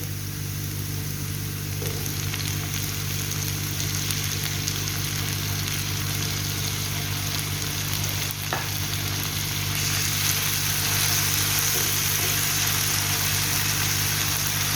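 Chopped tomatoes hit a pan of softened onions for a street-style egg omelette and keep up a dense, steady sizzle and crackle throughout, close and fairly loud, with a constant low hum underneath and no talking.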